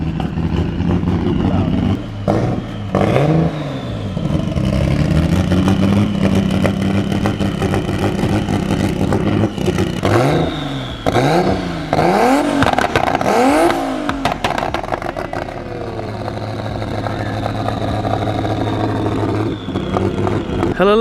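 A turbocharged BMW E46 M3 drift car idles loud and close, its exhaust popping and crackling continuously with occasional blips of revving, no voices over it.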